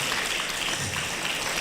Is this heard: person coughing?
no